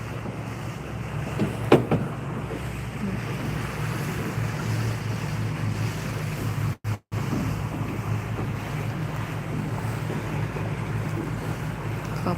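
A boat pulling in to dock at a busy pier crowded with moored boats, with a steady wash of waves and wind rumbling against the microphone throughout, broken by one very brief dropout midway; no voices.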